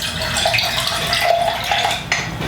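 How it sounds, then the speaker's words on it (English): A couple ounces of water poured into a jar for winemaking, a continuous splashing trickle with faint glassy clinks, close and steady for a few seconds, no talking. "Just going to pour these couple ounces of water into here."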